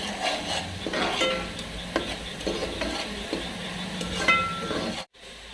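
Onions fry in a pan while being stirred for mutton gravy, a steady soft sizzle broken by scraping spoon strokes, continuous for several seconds before cutting off.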